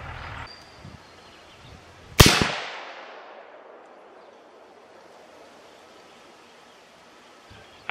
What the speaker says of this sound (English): Set this scope on 100 parallax and squeeze this trigger real easy here